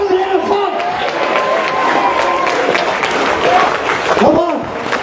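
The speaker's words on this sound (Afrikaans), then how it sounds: "Klap je handen." Worshippers clap their hands together during a lively Afrikaans church service, a steady crowd clatter under singing and a preacher's voice calling out over the congregation.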